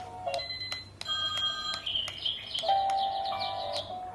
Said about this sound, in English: The alarm sound options will flash and the alarm sound will ring.